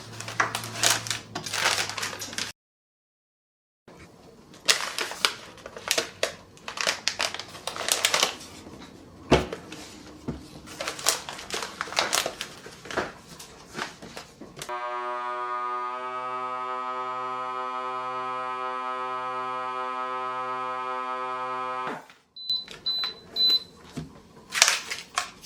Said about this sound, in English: I vacuumed all the air out and it is so strong